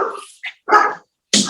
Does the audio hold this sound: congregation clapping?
no